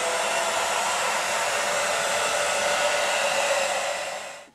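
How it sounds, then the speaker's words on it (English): Hair dryer blowing steadily and loudly on a bathed buff Orpington hen with fluffy under feathers, a continuous close airy roar that cuts off abruptly near the end. "A buff Orpington with the really fluffy under feathers, it can take over half an hour to blow dry."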